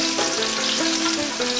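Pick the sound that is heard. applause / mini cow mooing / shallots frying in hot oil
shallots frying in hot oil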